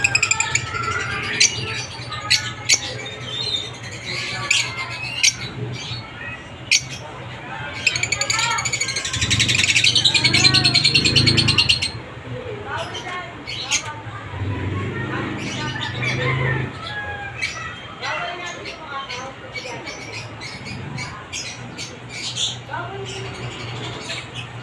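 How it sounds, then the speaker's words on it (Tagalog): Pet parrot-type bird squawking and chirping in a home setting, with repeated sharp calls, a louder burst of harsh squawks midway, and people talking intermittently underneath. "Ang ibon yan."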